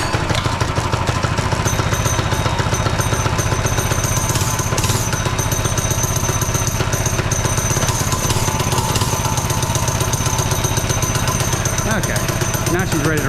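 A small minibike engine fitted to a converted Barbie Dream scooter idles loud and close, holding a steady, rapid, slightly uneven putter for the whole stretch.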